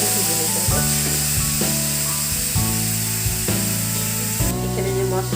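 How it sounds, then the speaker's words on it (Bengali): Mushrooms with salt frying in a pan while being stirred, a constant loud sizzle broken by regular scraping and clanking spatula strokes, with no one talking. "নাড়াচাড়া করে ভেজে নিতে হবে।"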